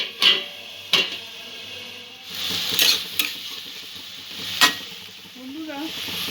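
Vegetable momo filling simmers with a splash of water over a medium-low gas flame, giving a soft steady sizzle broken by several sharp stirring scrapes and clinks of a spoon against the pan.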